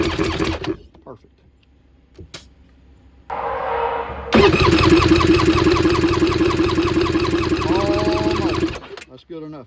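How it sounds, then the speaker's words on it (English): A Polaris MSX 140 personal watercraft's 1200 engine cranks briefly, then catches and runs loudly and steadily at a rough, buzzing idle for several seconds before cutting off. "This is a healthy engine, so it ain't gonna take much to get it going."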